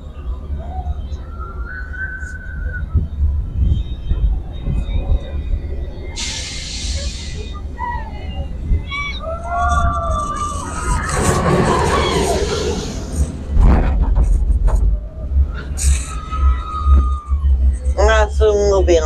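A Phoenix Rising roller coaster train at Busch Gardens rushes past with a rising roar and rumble that swells to its peak mid-way and then fades, while people nearby talk and a park crowd murmurs beneath it.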